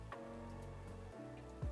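Rain falling in the video game Satisfactory, a soft steady patter across a wet concrete factory setting, faint and continuous under a low ambient game hum, with no talk.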